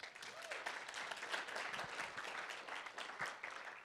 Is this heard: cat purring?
no